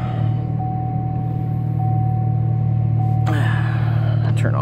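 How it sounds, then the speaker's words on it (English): Car engine idling steadily right after starting, a constant low hum with a faint whine, recorded from inside the car; brief rustling and a short voice sound near the end. "Get the car started."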